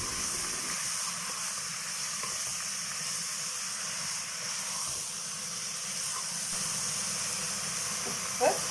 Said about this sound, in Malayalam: ഇതിലേക്ക് നമുക്കിനി ചിക്കൻ ചേർത്ത് 1 കിലോ ചിക്കനാണ്. നല്ലതുപോലെ ഇളക്കി കൊടുക്കാം.